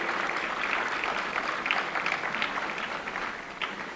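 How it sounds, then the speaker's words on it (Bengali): An audience at a formal welcome ceremony applauds, a steady even wash of many clapping hands heard from a little distance throughout, fairly soft, with no speech over it. "করতালি দিন সবাই মিলে।"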